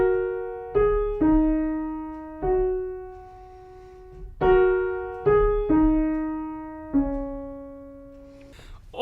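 A piano plays the right-hand melody of the Minecraft theme, slow single sustained notes struck in a gentle, spaced pattern, each fading out before the next, played alone without voices.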